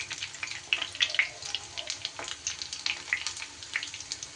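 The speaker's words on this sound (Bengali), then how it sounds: "গ্যাস কিন্তু একদম লো ফ্লেমেই রেখে আমি এগুলোকে আস্তে আস্তে ভেজে নিয়েছি" Kakrol (spiny gourd) slices frying gently in oil on a low flame, giving a faint, soft, continuous crackle and sizzle with small irregular pops.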